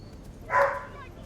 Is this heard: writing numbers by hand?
no